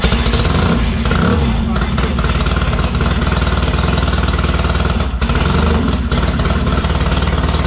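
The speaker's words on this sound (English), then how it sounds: "we now have a running bike. That was our very first start-up." A rebuilt Triumph 650 motorcycle engine fires up for the first time and keeps running, a loud, steady, rough mechanical roar with an even low throb that fills the whole stretch; voices may be faintly mixed in.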